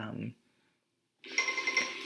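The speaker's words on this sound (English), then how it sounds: "an alarm just went off and made my phone extremely loud" A phone alarm rings out loudly and steadily after someone's voice stops, with a brief pause of silence between the voice and the alarm.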